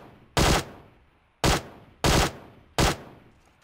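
Four loud, close gunshot bursts ring out in PUBG Mobile, each a sharp crack with a short echoing tail, spaced unevenly about half a second to a second apart with quiet between them.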